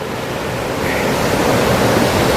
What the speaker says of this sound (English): If you can actually see down there what it is, the beautiful river. As I was hearing its noise